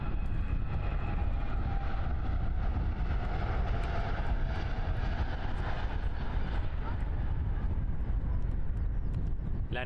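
Boeing 787 Dreamliner airliner flying past at Christchurch airport, a continuous broad jet roar that holds steady throughout, with people talking over it.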